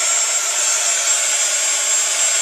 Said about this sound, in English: Now you need to get just a bit closer so that embossing powder can melt.